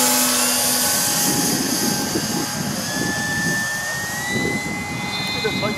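RC model airplane motor on a test run at a football field, a loud, close, steady high-pitched whine with a rough rumbling layer underneath that holds for several seconds.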